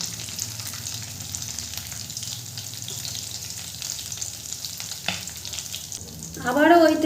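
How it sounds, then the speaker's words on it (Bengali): Egg chops being turned over and over in hot white oil as they brown, giving a continuous close sizzle with stirring clatter and a louder burst at the end. "এভাবে উল্টে পাল্টে চপগুলোকে আমি লাল লাল করে ভেজে নেব।"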